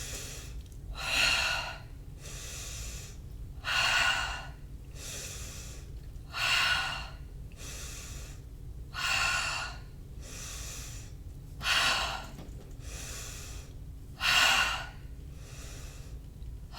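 Rapid yoga fire breath in a class for anxiety, forceful nasal exhales pushed out in regular bursts about every two and a half seconds over a steady low background hum, close and loud, no speech.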